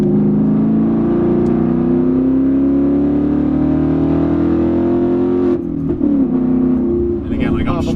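A 2019 Mustang GT's V8 pulls hard through third gear with a rising, steady engine drone, then a short shift breaks the note before it builds again, heard from inside the cabin with someone talking over it.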